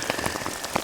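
Rain patters on a tarp sheltering hikers outdoors, a dense, close drumming of individual drops with a few louder taps in under a second, no voices.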